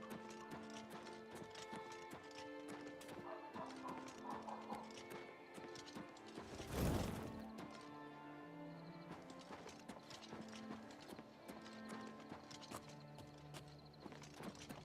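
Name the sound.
horse galloping, from the video game Oblivion Remaster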